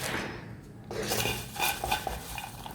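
Popcorn scooped out of a cooking pot with a small ladle into another vessel, close scraping and light metallic clinks of the ladle against the pot, with soft rattling of kernels.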